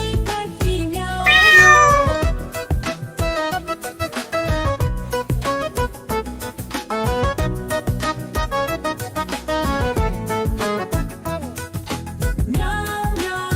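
Bouncy music plays throughout while a voice imitates a cat's meows in a repeated sing-song pattern in a Hindi children's poem.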